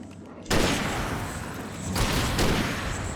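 Revolver gunshots from the Alan Wake video game: a loud sharp blast opens, followed by a second crack about a second and a half later, each trailing into a long rumbling echo.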